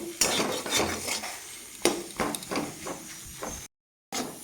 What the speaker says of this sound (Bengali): ভালোভাবে আমি আলুটাকে মশলার সাথে ভাজা ভাজা করে নেব